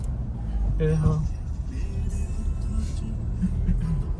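Busy night road traffic during an Eid crowd at Bandstand, a steady low rumble of passing cars and motor vehicles under a lively, crowded background with people talking.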